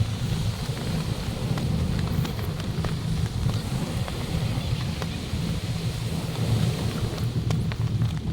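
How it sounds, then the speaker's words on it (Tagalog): Steady wind buffeting the microphone at a beach in Zambales, a continuous low rumbling roar that holds constant throughout with no voices. "May hangin."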